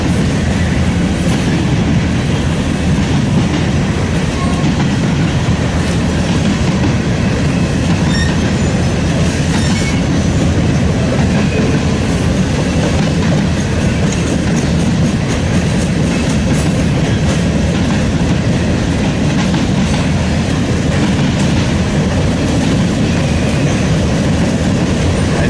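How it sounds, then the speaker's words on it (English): A complete CSX freight train rolls past heading southbound, a loud, close, continuous roar of wheels and rail with steady clatter and occasional squeal throughout, no talking. "this is the first time I've actually seen an entire CSX train on this line"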